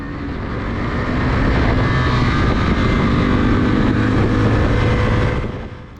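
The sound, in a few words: motorcycle passing at full pace on race track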